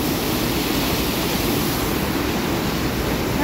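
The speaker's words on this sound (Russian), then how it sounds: "Здесь шумно. Здесь водопад." A steady, loud roar of rushing water fills the scene without pause, broadband and constant, from the nearby Klinsky waterfall in spring.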